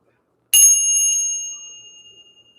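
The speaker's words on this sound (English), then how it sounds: "We're going to go ahead and ring the bell." A single clear strike of a small bell rings out in a quiet room, a bright metallic ding that sustains and slowly fades over about two seconds.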